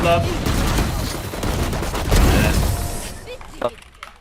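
Dense bursts of rapid gunfire in Valorant fill the scene, with excited voices shouting in Turkish over the shooting before it tapers off near the end.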